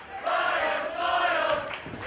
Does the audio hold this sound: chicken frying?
no